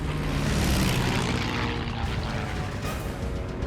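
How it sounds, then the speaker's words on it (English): A Japanese Val dive bomber's piston engine drones and fades as the plane turns away, a loud, rough propeller roar slowly shifting across a few seconds. "At 3 miles, the Val jettisons its bomb and turns away."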